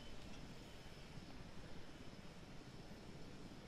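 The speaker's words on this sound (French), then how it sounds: "C'est l'hélico aussi qui vient chercher la dépouille." A helicopter arrives in the dinosaur park management game Jurassic World Evolution, its engine and rotor drone a steady, quiet wash of broadband noise with no voices.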